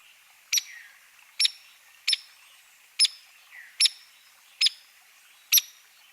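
Seven short, sharp woodpecker peek call notes ring out one at a time at a slow, even pace, clear and close against quiet.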